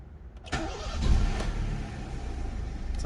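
A 1999 Honda City Type Z 1.5 EXi with manual gearbox cranks briefly and catches at once, settling into a steady, close idle with no talk over it.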